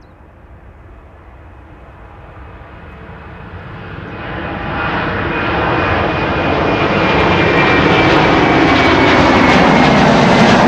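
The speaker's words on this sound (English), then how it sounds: "Qatar, the 777 on the move" A Qatar Airways Boeing 777 on the move, its jet engines building from a moderate rumble to a loud, broad roar with a rising whine over about ten seconds, close and alone with no talk.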